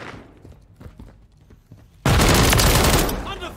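Call of Duty Modern Warfare multiplayer gunfire: after a quieter stretch of scattered footsteps and game sounds, a loud, sustained burst of rapid automatic fire erupts and fills the rest of the moment.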